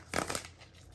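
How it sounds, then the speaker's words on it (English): Tarot cards are shuffled by hand in two quick, soft riffling bursts followed by a faint rustle, close and quiet. "So first I'm just gonna shuffle your cards"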